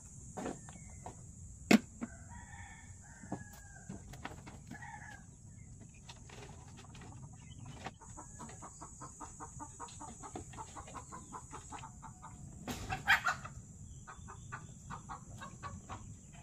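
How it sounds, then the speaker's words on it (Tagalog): Chickens cluck softly and a rooster crows outdoors with crickets chirping under it, the calls faint and scattered, with a few louder clucks near the end. "Kaya pumuputak ang manok doon."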